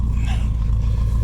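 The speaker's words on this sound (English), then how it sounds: "I'll do a little rev up." An old 1965 Ford Thunderbird engine, a parts car, runs with a heavy low rumble and rough throttle, loud and steady at close range for a brief moment.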